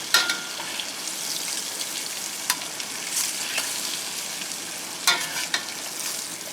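Chicken pieces frying in a pan for chicken scampi, an even, moderate sizzle with occasional sharp spatters and utensil taps, heard alone without speech.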